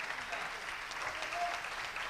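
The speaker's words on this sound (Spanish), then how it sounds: "Denle un aplauso al Señor." A church congregation claps together after a pastor's call during a sermon, a moderate, even wash of applause filling the room for a couple of seconds with no voices over it.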